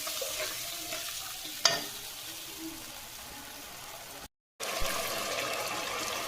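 Cumin seeds with dried and green chillies fry together in oil for a prawn-free mango fish curry base, a low steady sizzle with a sharp clink and occasional stirring, quiet and close, with a brief dropout.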